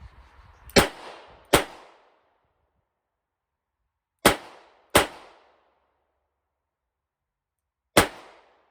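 Five sharp revolver shots crack out with .357 Magnum and .38 Special rounds, close and loud, spaced irregularly with a pair near the start, another pair in the middle and a single shot at the end, each followed by a brief decaying echo.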